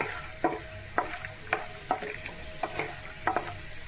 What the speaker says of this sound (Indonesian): Goreng kacang ya untuk pecelnya